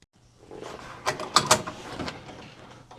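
A Brother BabyLock Alliance embroidery cap hoop is set back onto its hoop bracket, giving a cluster of close mechanical clicks and clunks with a brief sliding rub, the sharpest snaps falling near the middle.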